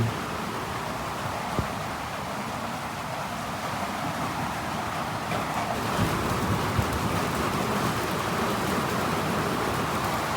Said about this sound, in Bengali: সকাল থেকে আবারও বৃষ্টি শুরু হয়েছে